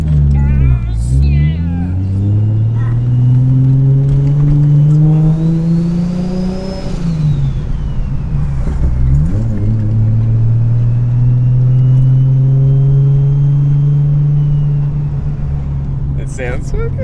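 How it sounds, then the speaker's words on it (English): Turbocharged engine of a Nissan Skyline R34 GTT coupe revving up and down in loud, sustained sweeps with a rising whine, close by, with people talking over it. "Let's see if you can hear the turbo."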